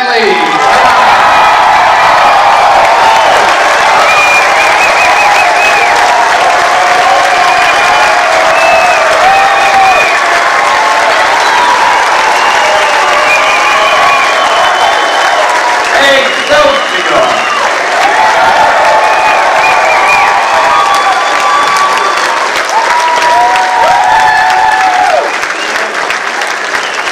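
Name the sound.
audience applause welcoming Stan Lee at panel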